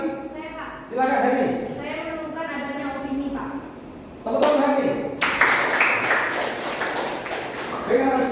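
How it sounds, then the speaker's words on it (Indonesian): A classroom of students applauds a classmate named Haris, a burst of scattered, overlapping clapping that rises midway and carries on for several seconds, following a teacher speaking and mixed with chatter. "Oke, tepuk tangan Pak Haris."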